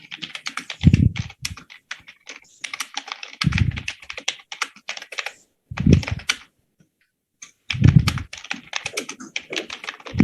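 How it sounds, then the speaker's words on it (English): Rapid typing on a computer keyboard during a Linux group session, coming in dense bursts of clicking keys with a thumping low-end, separated by brief pauses and a longer gap near the middle. "I'm typing for nothing."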